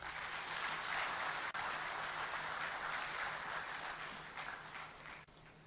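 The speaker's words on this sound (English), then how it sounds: "Let's welcome him with a round of applause." A steady round of applause from a town hall audience welcomes a speaker, a dense, even wash of many hands clapping with no talk, holding for several seconds and easing slightly at the end.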